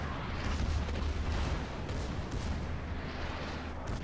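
Battleship guns fire in the naval combat game World of Warships, with a Tirpitz or Bismarck, making a dense, continuous low roar of booming salvos and rumbling blasts that stays loud throughout with no talking.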